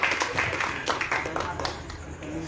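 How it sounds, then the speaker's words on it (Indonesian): An audience at a poetry evening claps in scattered, uneven applause, moderately loud and fairly close, thinning out toward the end. "Tepuk tangannya kurang keras untuk Mbak Ayu Laksmi."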